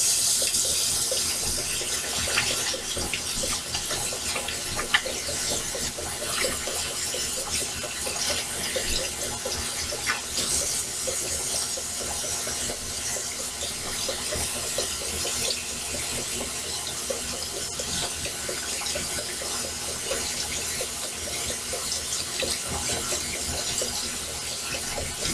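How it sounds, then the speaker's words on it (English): A sink tap runs steadily while hands are washed in a home kitchen during pumpkin pie baking, with a constant hiss of flowing water and faint splashing changes throughout. "So let me wash my hands."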